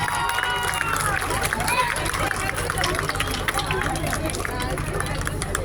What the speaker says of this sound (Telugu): big round of applause